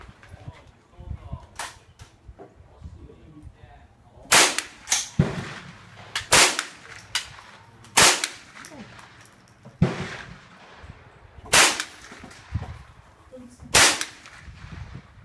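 An HK MP5 chambered in .22LR fires single shots at an outdoor range, sharp cracks spaced a second or two apart with quieter shots and talk in between.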